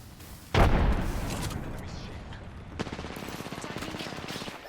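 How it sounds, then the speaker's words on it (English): Incoming gunfire striking the player in an Apex Legends–style battle royale shooter: a sudden heavy burst, then a fast rattling stream of shots and impacts that fades slightly over several seconds. "I'm taking shots."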